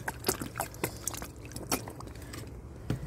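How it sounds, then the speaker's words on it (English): Wet gold-mining gear being rinsed off with water, giving soft close trickling and splashing with small irregular drips and splats, fairly quiet throughout. "I got my thing wet here, so let's rinse off that."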